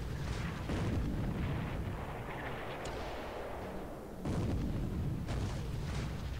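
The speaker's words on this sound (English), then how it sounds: "Anti-aircraft guns." Anti-aircraft guns firing in the War in the Pacific video game thud in heavy rumbling bursts, loud and continuous, dipping briefly before another strong barrage, with no talking.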